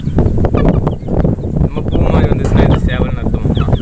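Chickens, including a rooster, cluck and squawk nearby in a busy, continuous jumble, with people talking over the birds.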